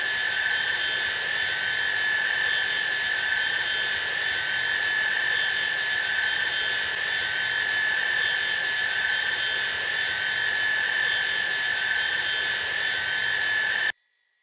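Steady, loud jet airliner drone from a Tupolev 154 in cruise in X-Plane 11, a continuous broadband roar with a whining tonal band, unchanging throughout and cutting off abruptly at the end.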